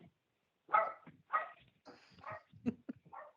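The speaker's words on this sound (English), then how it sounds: "Darn dogs." Dogs bark in a short run of several sharp, separate barks and yips, moderately loud and heard alone without talk.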